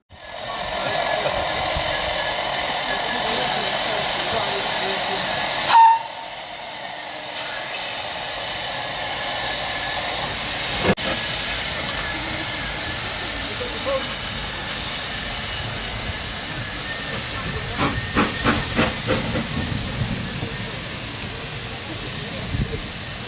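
A steam locomotive on the South Tynedale Railway hisses steadily at close range as it starts to move, with a sharp burst partway through and a few clanks over the constant roar.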